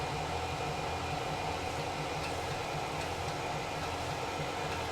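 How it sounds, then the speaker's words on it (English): A Tormach PCNC 1100 CNC mill running a full peck drilling cycle at about 5140 RPM gives a steady, dense mechanical whir with faint ticks, close and constant, with no voices. "this one is doing a full peck cycle"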